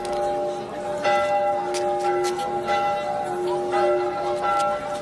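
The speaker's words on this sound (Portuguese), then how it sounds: "Os sinos confundiam os seus toques a chamar os fiéis" Church bells of the city's churches and chapels ring together in overlapping peals calling worshippers to early Mass in 1755 Lisbon, sustained tolling strikes layered over steady street bustle.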